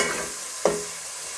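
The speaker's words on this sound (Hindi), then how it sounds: "ये 1 चम्मच हम लहसुन अदरक का पेस्ट है वो डाल रहे हैं, खाने का चम्मच। तो इसको थोड़ा सा हम फ्राई करेंगे" Ginger garlic paste and tomato frying in a pan with a steady sizzle, then a brief stir or clatter near the middle before the hiss settles back.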